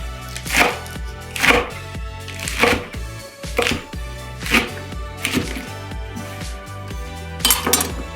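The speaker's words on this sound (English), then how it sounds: "I'm just gonna chop them real rough." Stem-stripped leaves being roughly chopped on a board with a knife, a series of about seven loud, evenly spaced chops close up with quieter scraping between them.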